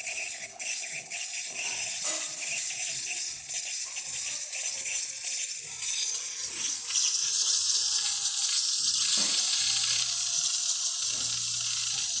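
Continuous hissing steam from a Rancilio Silvia espresso machine's steam wand, with a gurgling, sputtering texture, growing louder and brighter partway through.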